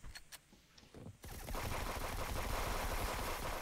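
Rapid automatic gunfire in a multiplayer shooter game, a dense continuous burst that starts suddenly after a few short shots and keeps going loud to the end.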